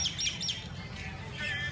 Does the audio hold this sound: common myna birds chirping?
yes